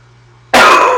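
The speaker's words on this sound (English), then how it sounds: "my kid has a cough and I'm picking it up" A single sharp cough bursts out close to the microphone, loud and abrupt after near silence, with a short second push at the end.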